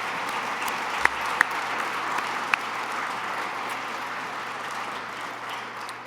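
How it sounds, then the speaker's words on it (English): Steady applause from a conference audience, an even wash of many hands clapping that holds for about six seconds, with a few sharp isolated claps standing out near the start. "let's give a round of applause to all the people who wake up every morning and help us fight cancer"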